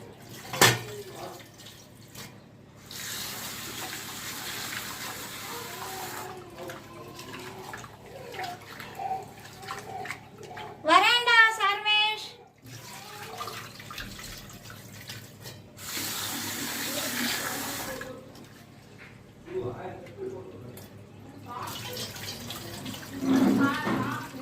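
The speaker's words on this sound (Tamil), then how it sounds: "இப்போ இந்த அரிசியை நல்லா கலைஞ்சிக்கோங்க" Rice being washed by hand in a bowl of water for vegetable pulao, with intermittent splashing, swishing and trickling bursts between quiet gaps, and a voice speaking in places.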